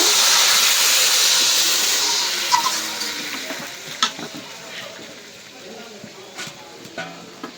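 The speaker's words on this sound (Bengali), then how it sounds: "একটু পানি দিয়ে নেই মশলা কষানোর জন্য।" Onion, green chili and salt spice paste for chicken curry hisses loudly in a pan as water is added, and the sizzle gradually dies down under scraping stirring clicks.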